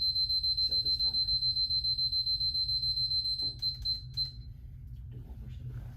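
A timer being set during a physical therapy lab practical gives a rapid string of steady high electronic beeps for about four seconds, then stops under a low background hum with faint movement and brief voices.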